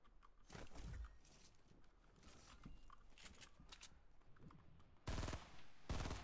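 Heavy Assault Rifle fire crackles in Fortnite, with scattered distant shots throughout and two louder close bursts near the end.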